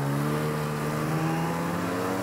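A 2025 Arctic Cat ZR 858 ATAC Catalyst 137 snowmobile engine on its first ride, revving loud and close with a sustained, rising mechanical whine and no speech.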